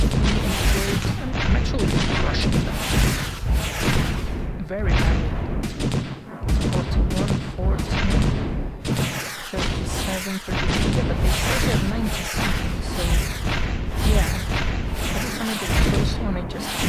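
Explosions and artillery fire from a real-time strategy war game, a dense, continuous barrage of booms and crashes that fills the whole stretch with only brief lulls.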